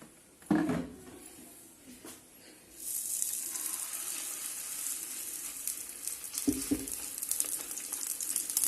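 Oil sizzling on a hot tava griddle set over a low flame for makki ki roti: a steady, close hiss that begins after two brief clatters and then holds at an even level with slight crackle, with no speech.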